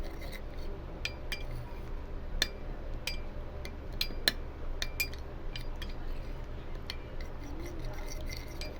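A utensil stirs a thick neem and curd face pack in a bowl, giving repeated light clinks and scrapes against the bowl over a steady background hiss.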